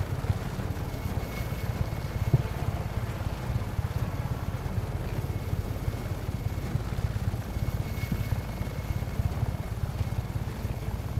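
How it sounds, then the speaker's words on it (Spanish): A helicopter drones steadily in the Just Cause 3 video game, a continuous low rotor rumble holding at the same level throughout, with no talk over it. "Vamos con el helicóptero."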